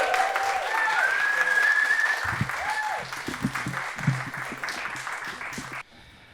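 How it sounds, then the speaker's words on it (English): An open mic audience bursts into loud applause and cheering with whistles to welcome a performer. The clapping is strong at first, thins out, then fades. "I feel like clapping for the entire time might take a little bit too much, but please welcome to the stage. It's Izaac"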